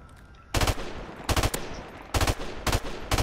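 Automatic gunfire in a first-person shooter video game comes as several short, loud bursts of rapid shots separated by brief pauses, with quieter game sounds between them.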